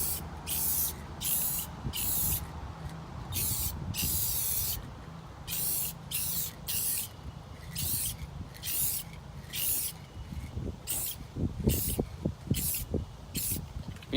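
Aerosol coat sprayed onto a car headlight during restoration, heard as a run of sharp hissing bursts, some short and some longer, with brief pauses between them, fairly close and with no talking.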